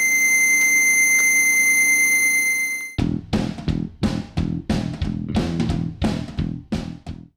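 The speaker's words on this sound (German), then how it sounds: "Kippt der Troja 2G zum Beispiel im Falle eines Sturzes, ertönt ein Hilfesignal." A Topro Troja 2G rollator gives its help alarm after tipping over: a loud, steady, high-pitched electronic tone for about three seconds, then it stops and is followed by a series of rhythmic, chord-like pulses.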